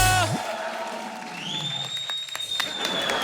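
Studio audience at a Diwali-special comedy show applauding and cheering over a sustained musical sting, the clapping steady and moderately loud throughout the short burst.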